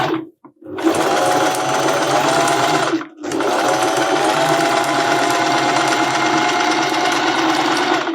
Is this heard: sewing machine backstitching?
yes